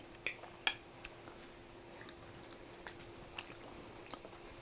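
Faint crunchy bites and soft chewing of warm potato pancakes with ketchup, a few sharp clicks near the start and then quieter irregular mouth sounds over a low room hum.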